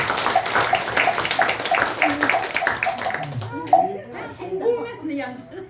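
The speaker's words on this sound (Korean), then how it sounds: "자, 우리 박수 한번 부탁드립니다." Audience clapping at a Buddhist temple sermon for Baekjung, a run of steady, fairly close hand claps for about three seconds, followed by people talking and light laughter.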